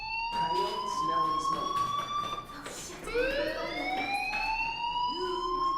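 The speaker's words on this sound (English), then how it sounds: "Hey, do you hear that fire alarm?" A fire alarm rings in the video game Life is Strange: a loud, continuous electronic tone with a sharp rising sweep partway through, holding steady to the end.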